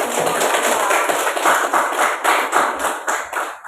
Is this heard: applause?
yes